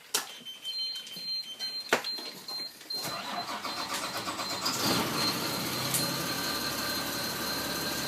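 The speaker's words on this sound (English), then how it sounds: "I'm going to start the bus." A few high electronic warning beeps chirp in a quiet school bus cab before the engine cranks and catches about three seconds in, then settles into a loud, steady diesel idle.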